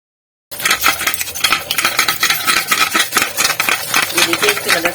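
A stained pressure cooker being scrubbed clean, a loud rapid scratching and rubbing that starts abruptly after a brief silence and continues in rhythmic strokes.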